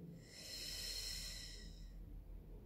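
A slow, steady out-breath during a Pilates breathing exercise, a soft airy exhale that swells and then fades over a couple of seconds, close and quiet with no speech.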